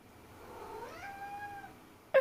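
A cat gives a single drawn-out meow that rises and then fades, heard close and fairly clear against a quiet background, followed by a short sharp noise at the end.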